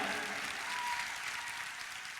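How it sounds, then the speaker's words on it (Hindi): Audience applause at a farmers and youth event, a dense steady wash of many hands clapping that holds evenly for the whole stretch without any break. "प्लीज एक बार तालियां बजाइए, जोरदार तालियां बजाइए आप"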